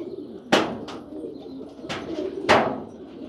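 Pigeons on a rooftop give a few short, close flutters and bursts, three or four sharp flaps spaced unevenly over a soft background of faint cooing.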